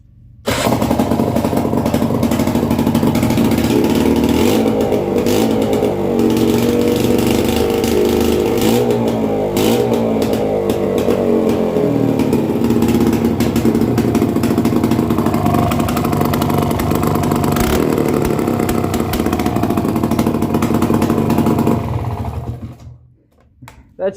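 A motorcycle engine idles loudly through a broken exhaust, a rough, rapid, buzzing putter that runs steadily close by for over twenty seconds before cutting off near the end.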